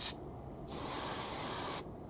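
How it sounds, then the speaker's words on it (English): An airbrush sprays Vallejo Game Air Leather Brown paint onto a Space Marine miniature, with a short burst of hissing air at the start followed by a steady, sustained spray hiss for about a second before it cuts off. "I'm angling the airbrush down and we're just going to ever so lightly paint some of the leather brown onto the bottom of the Space Marine's leg"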